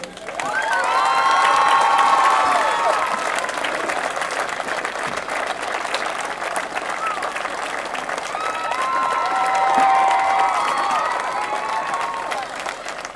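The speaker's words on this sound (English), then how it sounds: "the lady that has worked on this concession stand probably more than anybody during the course of its construction and needs a great round of applause" A crowd at a 2006 sports field dedication applauds and cheers a concession stand volunteer, with sustained clapping and scattered shouts swelling twice, loud and close throughout.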